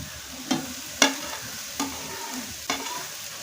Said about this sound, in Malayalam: അതിലേക്ക് വാഴക്കൂമ്പ് ചെറുതാക്കി അരിഞ്ഞത് ഇട്ട് കൊടുക്കുക